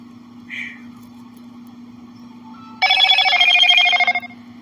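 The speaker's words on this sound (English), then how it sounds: "That's a notification in my email letting me know that I am live on here." An email notification chime on a computer during a live electric guitar stream: a faint short blip early on, then a loud bright ringing tone holding for over a second before cutting off, over a steady low hum.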